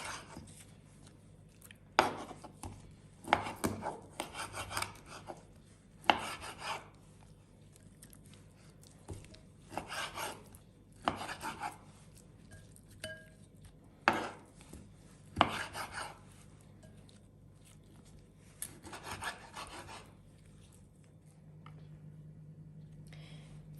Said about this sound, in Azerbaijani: İndi isə balığımızı tikələrə ayıraq.